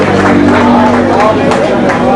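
A crowd at the Porto-Novo semi-marathon cheers and applauds the prize-winning runner, a loud, dense and steady wash of noise with murmured babble that fills the whole short stretch.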